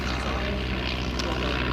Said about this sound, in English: So light aircraft going by.